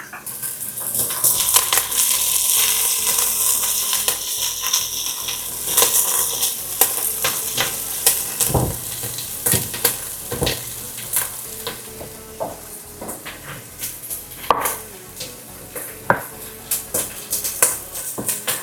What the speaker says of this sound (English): like I'm doing right now by frying it with the sausage and onions